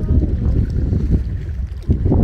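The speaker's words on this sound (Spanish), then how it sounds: "pero la neta el aire sí está muy fuerte" Strong wind gusting at a fishing spot on a lake, a loud, steady rumbling buffet across the microphone with no talk over it.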